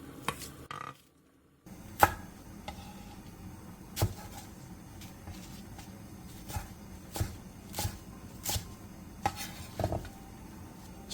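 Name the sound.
knife chopping green onion, chili peppers, napa cabbage and perilla leaves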